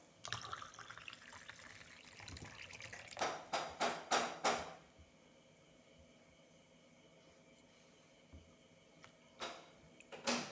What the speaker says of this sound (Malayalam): അതിനുശേഷം നമുക്ക് വെള്ളം ഒഴിക്കാം.